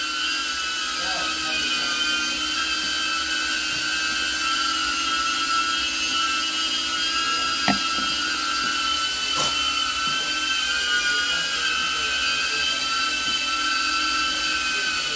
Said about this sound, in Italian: poi gira il drone